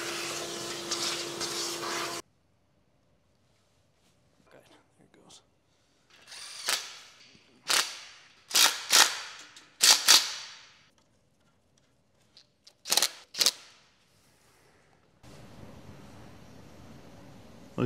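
An engine block being ground for crankshaft clearance on a 383 stroker build, a power grinder whining in several short bursts of a second or so each, close and loud, with gaps of quiet between them.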